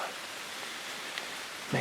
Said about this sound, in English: You guys can hear the rain, it's freaking crazy.